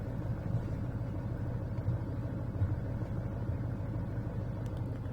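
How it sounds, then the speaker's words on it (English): Older Duramax diesel pickup truck engines rumble steadily in a driving video game, a continuous low drone with no talking. "I have also raised the game volume and the environment of the game a little bit more so you guys can hear the truck engines"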